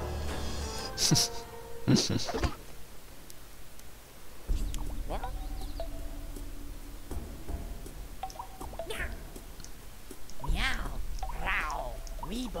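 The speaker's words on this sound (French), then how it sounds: "on se bat contre des chats" Cats meow and yowl during a fight in a video game, with several rising and falling cries scattered over the scene amid background game sounds.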